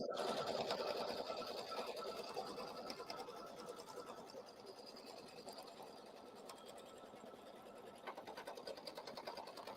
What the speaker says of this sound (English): Could you wind us a bobbin about maybe half full of that?